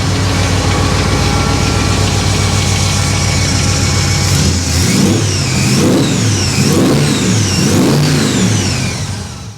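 A stock 350 V8 in a 1957 Chevy Bel Air hot rod rumbles at a loud steady idle, then revs up several times in quick rising and falling bursts, close and alone.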